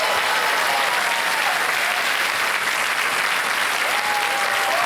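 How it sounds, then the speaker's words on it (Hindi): Sustained, dense audience applause for a woman contestant on the Hindi quiz show Kaun Banega Crorepati, steady and loud throughout with the clapping of a large studio crowd blending into a continuous wash. "तालियां बज जाए इनके लिए"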